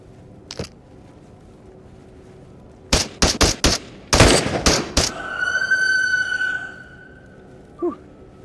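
Video game gunfire while clearing a sniper tower in a quarry, a quick string of sharp shots followed by a ringing tone, with a faint breathy sound near the start and a short blip near the end.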